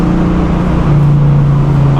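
A 1971 Chevrolet Nova SS pro touring build with a 375 hp engine and 4-speed, cruising a country road; its steady loud engine drone holds throughout, rising slightly in pitch partway through.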